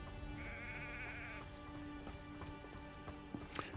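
A sheep bleats clearly in the video game Hogwarts Legacy, one wavering cry lasting about a second, set over a steady low game ambience with faint footstep-like taps.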